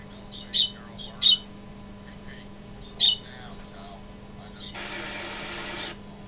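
A pet bird, a young female, gives sharp squawks and peeps in a few separate bursts, loud and close, over steady indoor hum, followed by a longer stretch of soft hissing noise.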